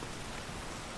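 Steady rain falls in a film scene, a dense, even hiss of drops on surfaces with no pauses, fairly soft and continuous, with no voices.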